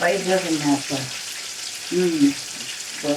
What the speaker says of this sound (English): it's frying well, deep fry, is it?